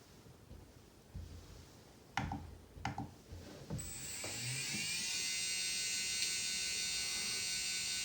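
An Eco Power Slingshot SLV 17.5T brushless RC motor starts after a few sharp mechanical clicks, then spins up into a steady, high-pitched electric whine that holds to the end.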